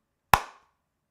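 A single sharp hand clap marks the start of a recording session after a countdown, with a short decaying ring-out and then silence.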